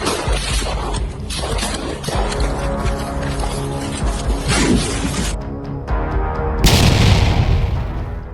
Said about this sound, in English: The explosions were devastating.